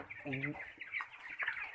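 Chickens on a poultry farm of about 2,000 birds clucking nearby in short bursts, with a brief harmonic call near the start, over a faint background.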